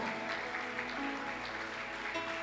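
A church congregation claps together in a sustained round of applause after a reading, moderately loud and steady throughout, with indistinct voices mixed in.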